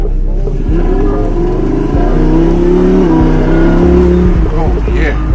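A 2020 Lamborghini Huracan Evo engine revving loudly close by, a deep rising and falling roar with harmonic tones, while people talk excitedly over it.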